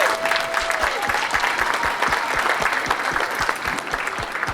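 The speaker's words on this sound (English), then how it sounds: "Everyone up there deserves a round of applause." Steady, dense clapping from an audience at a live Q&A panel at Flatoberfest 2022, filling the room continuously for several seconds without a break.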